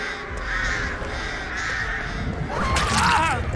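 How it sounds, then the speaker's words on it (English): Crows cawing in the Dead by Daylight video game, harsh calls over a steady game ambience, with a louder burst of cawing near the end. "Can we get the crows on him?"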